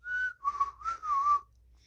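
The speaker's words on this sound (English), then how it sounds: "And she's just whistling in the background" A person whistles a short, clear melody of a few sliding notes, alone and close, with quiet in between.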